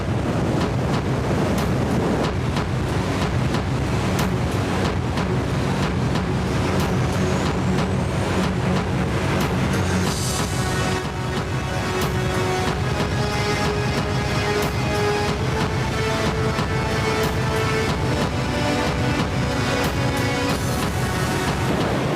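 Glacier meltwater rushes out of the glacier's mouth in a loud, unbroken roar with wind buffeting the microphone throughout.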